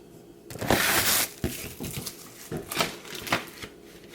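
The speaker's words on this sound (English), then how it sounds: "Now I'm cutting slightly more than what I've marked because it's easier to cut a little bit off" Smart Tiles backsplash tile being cut, a close crinkly rustle followed by several short scraping snips and rustles, quiet and irregular with no talking.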